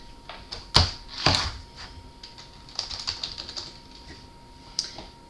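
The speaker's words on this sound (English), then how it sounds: "we're going to type a word" Keys clack on a computer keyboard as a word is typed, a few loud isolated strikes followed by a quicker run of lighter taps, close and clear in a quiet room with a faint steady tone.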